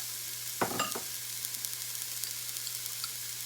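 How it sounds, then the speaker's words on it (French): Chopped onions hit a hot frying pan with a brief burst of sizzle, then a quieter steady crackle continues alone, fairly close, while preparing a Thai shrimp curry. "Ma poêle est chaude, donc je vais ajouter dans ma poêle mes oignons."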